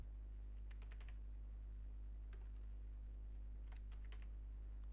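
Keystrokes on a computer keyboard during a Facebook marketing lesson, coming in short quick clusters of faint clicks over a steady low electrical hum, with no voice.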